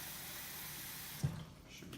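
Tap water runs steadily into a rice cooker pot, a soft continuous rush that cuts off with a small clunk near the end, followed by quiet room tone.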